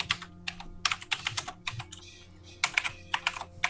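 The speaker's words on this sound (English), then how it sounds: "You can hear how furiously she's typing." Furious typing on a computer keyboard: rapid bursts of clattering keystrokes in uneven clusters with brief pauses, close and crisp over a faint background hum.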